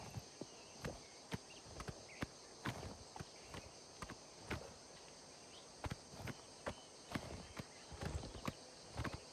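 Horse hooves clop in an uneven walking rhythm on a hard surface in a video game, steady and fairly close, over a faint constant background hum.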